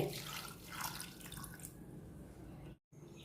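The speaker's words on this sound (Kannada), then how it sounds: "ಇದಕ್ಕೆ ಬೇಯಲಿಕ್ಕೆ ನೀರು ಹಾಕಿಕೊಳ್ಳಿ" Faint, continuous splashing of water being poured into a pot of chickpeas for cooking, steady for a few seconds before a brief pause.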